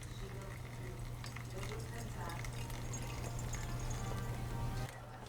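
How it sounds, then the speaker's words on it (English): Boiling water pours over coffee in a strainer with a low, steady trickle and gurgle, quiet and continuous before stopping with a brief clunk at the end. "I'm going to pour my boiling water"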